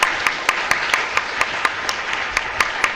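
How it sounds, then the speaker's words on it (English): An audience at a summit panel on careers of the future applauds the panelists: steady, evenly paced clapping over a continuous wash of hand noise, with no talk. "I think we should give a round of applause for our panel."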